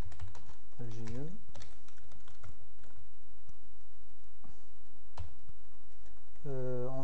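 Light, irregular keystrokes on a computer keyboard while C program code is typed, soft close taps in short bursts with someone speaking French in between.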